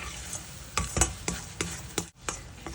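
Dry fruits are stirred and roasted into suji halwa in a pan, with a spoon scraping in rhythmic strokes over a faint low sizzle, the scrapes close and distinct.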